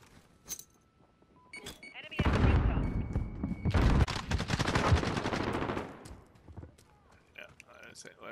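Rapid automatic gunfire in the video game Modern Warfare rattles out in one sustained, loud burst lasting several seconds, bracketed by a few scattered shots and clicks.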